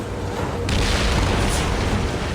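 A deep, loud boom of cannon fire rolls out during a galley sea battle in Assassin's Creed Origins, a thick broad blast that swells after a brief lead-in and sustains without talk.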